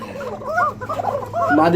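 Pigeons on a farm raising paired birds with eggs and chicks give repeated warbling coos, several overlapping calls close by against a low steady background hum.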